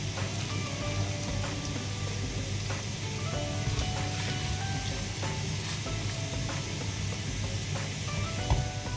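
Freshly chopped garlic and ginger sizzle steadily in a small amount of oil in a wok, a constant close crackle and hiss like rain on a surface.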